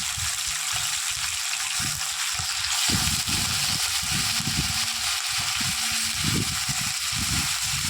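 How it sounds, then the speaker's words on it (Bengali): Washed poultry chicken pieces go into a pan of frying potatoes, giving a steady loud sizzle with repeated soft low thumps and stirring knocks throughout. "মাংসটা বা পোলট্রির মাংসকে ভালো করে ধুয়ে এবার আলুটার সঙ্গে দেওয়া হচ্ছে"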